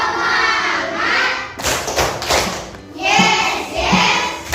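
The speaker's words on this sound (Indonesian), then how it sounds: "kita tepuk semangat dulu" A classroom of children performs a rhythmic group clapping routine of thuds and hand claps mixed with loud shouting together, in bursts with short pauses between.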